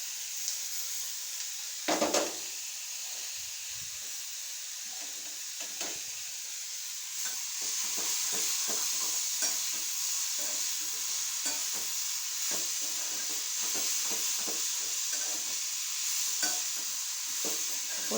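Chopped capsicum with egg sautéing in a pan, a soft steady sizzle with a sharp knock early on, then repeated scraping stirs in an uneven rhythm, close and fairly quiet, with no talking.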